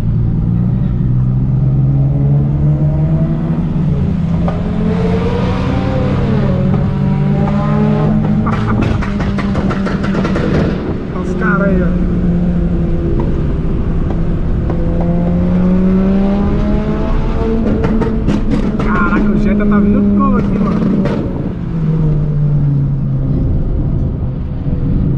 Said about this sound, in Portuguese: Os caras querendo acelerar tudo aí, ó.